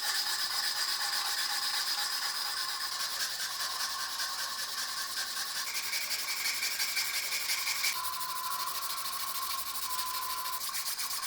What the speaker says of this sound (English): I'm gonna touch it a little bit with sandpaper